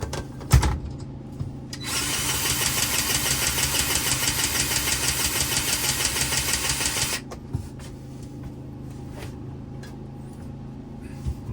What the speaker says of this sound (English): See, it just pushes the grease right up through the bearing perfectly.